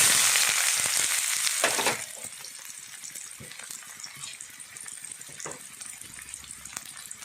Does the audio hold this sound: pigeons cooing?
no